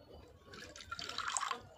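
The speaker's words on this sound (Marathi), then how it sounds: "त्यामध्ये पाणी ॲड करायचंय" Water trickles and splashes into a small bowl holding salt, a light pouring sound that builds slightly over a couple of seconds, close by.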